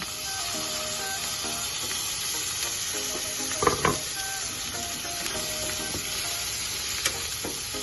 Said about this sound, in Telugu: 1 స్పూన్ అల్లం వెల్లుల్లి పేస్ట్ వేసుకొని వేయించుకుందాం